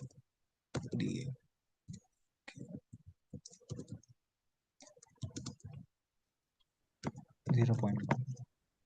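Fingers typing on a computer keyboard, bursts of quick clicking keystrokes separated by short pauses, close and fairly quiet, with someone talking in between.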